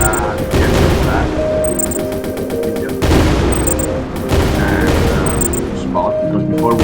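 Rapid bursts of gunfire from the video game Crystal Rush, loud and repeated in volleys with brief gaps, layered with electronic game effects.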